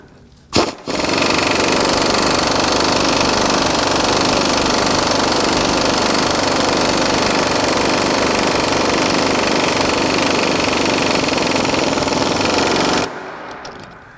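An impact wrench with a 14mm socket drives a bolt down on a 2003 Nissan Sentra, a loud, continuous rapid hammering rattle lasting about twelve seconds before cutting off abruptly, with no talk over it.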